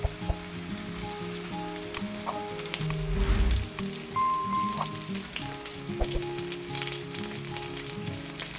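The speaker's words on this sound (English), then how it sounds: "While the meatballs are cooking" Meatballs fry in a pan with a steady, moderately loud sizzle and crackle that swells briefly midway, and small spatters pop now and then. No one speaks.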